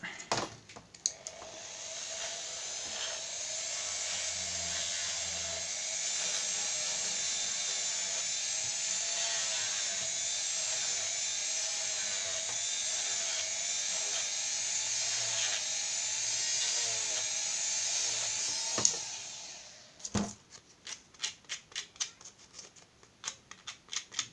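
Coarse 40-grit sandpaper rubbed against a Peugeot air filter housing gives a steady, close, hissing abrasive rasp lasting most of the time, then breaks into short scratchy strokes at the end.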